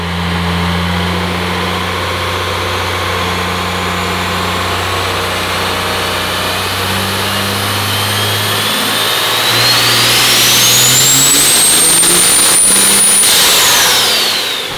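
Quad cab diesel truck fitted with a 107mm turbo and 300% injectors, loud on a dyno: engine idles, then revs hard as a rising turbo whistle climbs and holds before dropping away, no talk.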